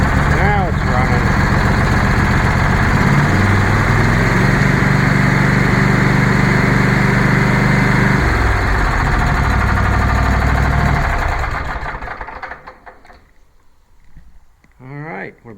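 A small single-cylinder engine runs steadily and loud after the choke is taken off, holding a droning idle with a brief shift in pitch midway, then cuts out near the end, leaving quiet with a few faint noises.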